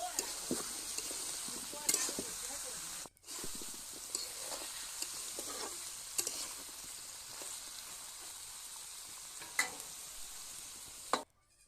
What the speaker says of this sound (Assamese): মাংসখিনি ঢাকি ভাজি আছিলোঁ